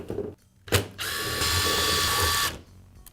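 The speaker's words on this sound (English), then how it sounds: "I'll remove the screws that secure the housing" A power driver whirs and ratchets as it backs out the housing screws on a Milwaukee Hackzall reciprocating saw, one short burst then a longer steady spin of about a second and a half, close and fairly quiet.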